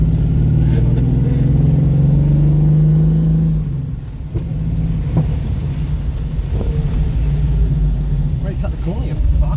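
A Holden VK Commodore with flat tyres runs rough on four cylinders, its loud, uneven engine rumble steady and close, shifting in tone midway as the car moves off, with people talking over it.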